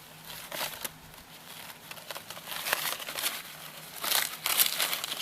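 Toilet paper wrapping is pulled and peeled off a potted cactus, giving steady soft crinkling and rustling with brief louder crackles, close by and without talk.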